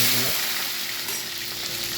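Curry leaves, mustard seeds, onion and green chillies fry in hot oil for a fish curry, giving a steady close broadband sizzle with a few sharper crackles near the start.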